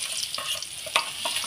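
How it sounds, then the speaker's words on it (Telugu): Flour batter spiced with salt and chili powder fries in hot oil in a pan for stuffed bitter gourd, giving a steady close hiss with a few soft scraping stirs and small pops. "ఆయిల్ వేడెక్కాక ఈ మిక్స్ చేసిన పిండి ఇందులో వేసుకోవాలండి"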